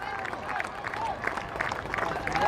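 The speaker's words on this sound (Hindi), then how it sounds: "ये शतक का भरपूर तालियों के साथ अभिवादन किया" Cricket crowd applauding Padikkal's century during a Karnataka vs Baroda Vijay Hazare Trophy one-day match, a steady wash of clapping with scattered cheers from a large stadium audience. A commentator's voice sits faintly underneath.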